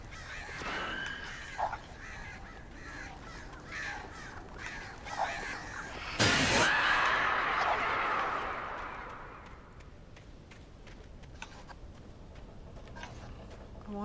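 Crows caw repeatedly in the Alan Wake video game, first in scattered calls, then in a loud flapping, cawing burst that fades into the ambience.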